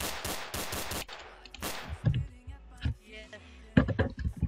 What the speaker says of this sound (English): Let's randomly shoot him.